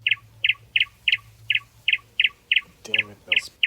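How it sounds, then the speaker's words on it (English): Birds chirping in a regular rhythm, about a dozen bright, sharp tweets repeating roughly every quarter second over a low background hum, with one busier burst near the end. "those birds again."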